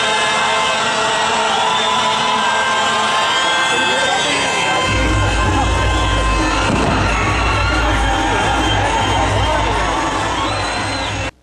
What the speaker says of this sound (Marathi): विजयी खेळाडू आणि समर्थकांनी जल्लोष साजरा केला